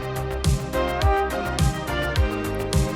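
A flugelhorn-like brass tone plays over a steady beat, with a punchy kick pulsing about twice a second beneath sustained mellow notes.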